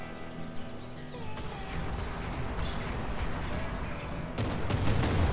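An artillery barrage in the sci-fi survival game Stranded: Alien Dawn: low rumbling booms building in density, with a sharper cluster of blasts near the end.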